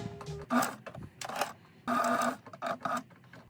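A sewing machine stitches on buttons for a fall garment, giving short irregular bursts of mechanical rattling and clicking separated by brief quiet gaps, fairly close and clear.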